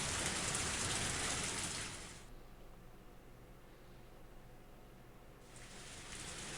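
Steady rain falls in the visual novel Higurashi, a soft hiss of drops that thins for a few seconds and then swells again. It is faint and continuous, with no voices.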